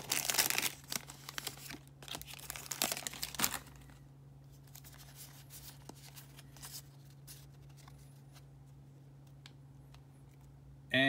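A Pokémon Fates Collide booster pack's foil wrapper crinkles and tears open close up in a few quick bursts, followed by quieter card handling and faint rustles.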